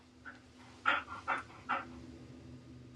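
A dog named Margot panting heavily close by, about four quick breathy bursts followed by quieter breathing.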